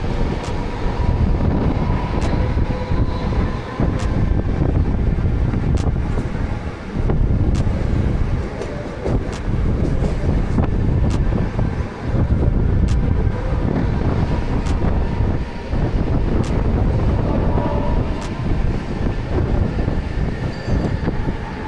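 A Mumbai local train running at speed, heard from inside as a constant loud roar of wheels on track with periodic rhythmic clacks over rail joints and buffeting wind noise, no voices.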